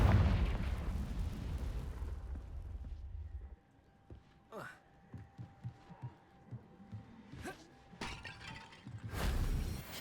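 Confringo spell in the Hogwarts Legacy video game: a loud fiery blast that fades, followed by a string of clinking, breaking debris impacts and another burst near the end.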